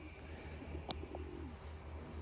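Pigeons coo softly in an aviary loft, a low murmuring call over steady background hum, with a brief sharp click partway through.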